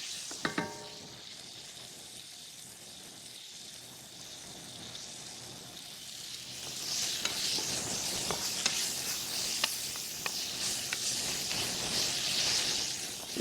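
Meat for street tacos sizzling in a hot pan as it browns, a steady soft frying hiss that swells louder in the latter half with scattered sharp pops and crackles.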